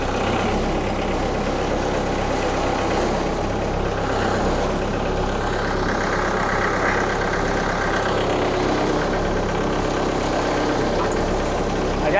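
Tractor engine running on a property with a sawmill and firewood: a steady, close idling rumble that holds at the same level throughout, with no breaks and no talking over it.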